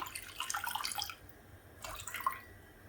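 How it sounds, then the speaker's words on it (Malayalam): Water poured into a pan for boiling drumstick leaves, faint splashing and trickling in two short bursts with quiet pauses between. "ഒരു പാൻ വെച്ച് അതിലേക്ക് കുറച്ച് വെള്ളം ഒഴിച്ച് കൊടുക്കാം"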